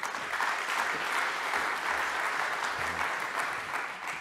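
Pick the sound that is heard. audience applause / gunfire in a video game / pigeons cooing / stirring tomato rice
audience applause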